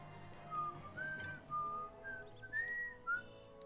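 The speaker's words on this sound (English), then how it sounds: "If I whistle, is that extremely loud?" A person whistles a wavering, sliding melody in several short phrases, fairly faint against a quiet background.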